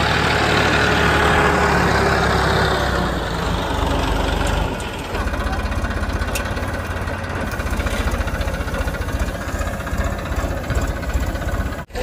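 Tractor engine running in a groundnut field at the end of the harvest, a steady loud mid-low chug that shifts and lightens partway through, continuing near throughout.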